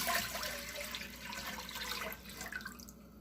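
About 1.5 litres of water pours steadily into a cooking pot for shrimp sinigang, a continuous splashing rush that fades out at the end.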